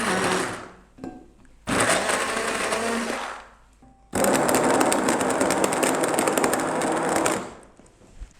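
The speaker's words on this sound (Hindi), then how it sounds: "इसको एक ब्लेंडर की मदद से मैं यहाँ पर मिक्स कर रही हूँ।" An electric blender whirs in three bursts, grinding dates into a paste, the last and longest loud and rattling, with short pauses between.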